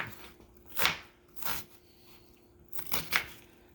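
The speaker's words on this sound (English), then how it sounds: "now we're going to cut up some onions" A knife chops onions on a board in a few scattered, soft thuds and slices heard up close with quiet pauses between.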